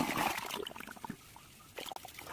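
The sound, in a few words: kitchen waste being poured into a biogas plant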